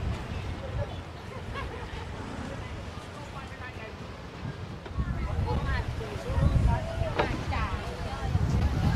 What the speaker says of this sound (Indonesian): Wah, anginnya deras sekali ya.